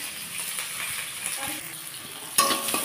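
Onion and chilli fry in a kadai in a home kitchen, a continuous soft sizzle with light stirring scrapes and a sudden metallic clink near the end, while faint voices murmur in the background.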